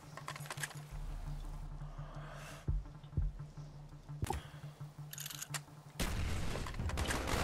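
Bursts of Call of Duty: Black Ops gunfire and booms over a steady mechanical drone, with sharp cracks scattered throughout and a louder stretch near the end.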